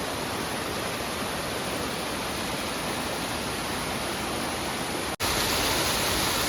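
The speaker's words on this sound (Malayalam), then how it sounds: "ആ പുഴ ഇങ്ങനെ ഒഴുകി പോകുന്നൊരു കാഴ്ചയുണ്ടോ" A small, shallow river flowing near Idukki dam in Kerala gives a dense, even rush of water, loud and close, running without pause apart from a brief cut before it resumes.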